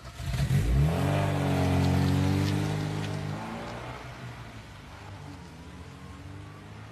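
A car passes close on the A1 at night, its engine swelling to a loud, rising drone with clear harmonics around two seconds, then fading into a softer steady hiss of road noise and distant traffic.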